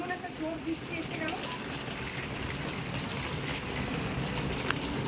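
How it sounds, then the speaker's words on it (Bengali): Heavy rain pours down in a dense, steady hiss with scattered drop patter, continuous throughout, with faint voices mixed underneath. "দেখো কত জোরে বৃষ্টি হচ্ছে"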